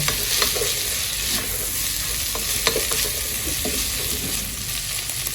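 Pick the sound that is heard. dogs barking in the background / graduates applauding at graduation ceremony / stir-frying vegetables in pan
stir-frying vegetables in pan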